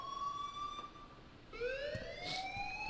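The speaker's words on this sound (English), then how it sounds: "please turn off that alarm since that's your job" A school alarm rings in the video game Life is Strange, a steady electronic siren-like tone that shifts pitch partway through and rises in level, sounding alone with no talk.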